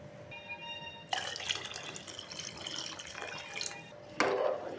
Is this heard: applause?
no